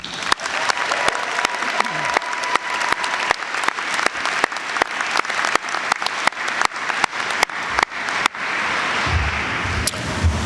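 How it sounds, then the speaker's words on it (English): Audience applause for award winners at a university convocation, dense clapping with sharp individual claps standing out, then easing off toward the end, with no voices heard. "All right, another round of applause for our award winners."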